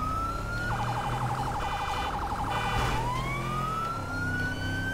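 Police car siren in GTA 5, a loud wailing tone that switches into a rapid yelp pattern for about two seconds, then sweeps back into a slow rising wail over steady engine and traffic noise.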